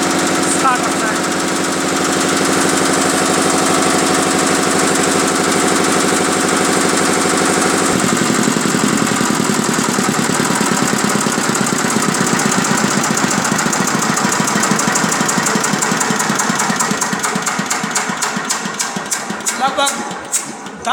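An engine runs steadily ahead of a compression test, a loud idle with a knocking, rapid pulsing rhythm that turns rougher and more rattly partway through.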